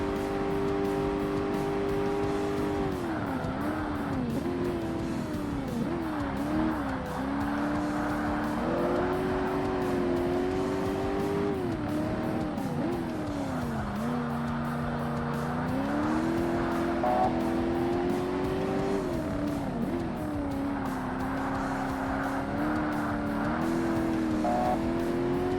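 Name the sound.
race cars driving in Forza Motorsport video game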